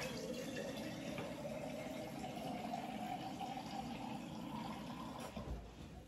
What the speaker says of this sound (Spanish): ahora le voy a poner agua